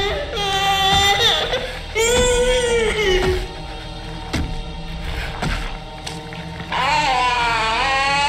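An infant wails in Resident Evil Village, a loud, close, tonal cry rising and falling in repeated sobbing bursts with brief gasping pauses between them.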